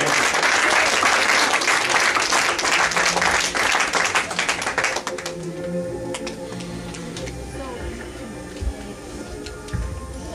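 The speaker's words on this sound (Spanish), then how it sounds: "¿Le dan palmas al Señor?" A church congregation at a wedding ceremony breaks into loud, dense applause that fades after about five seconds, leaving scattered individual claps and a faint murmur of the room.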